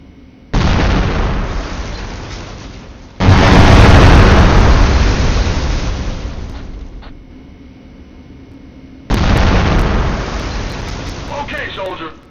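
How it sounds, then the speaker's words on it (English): M67 hand grenades exploding on targets in the video game Conflict: Desert Storm 2: three loud, close booming blasts, each with a long rumbling tail that fades slowly before the next detonation. "Use the M67 grenades on the targets and let's see how many you can get"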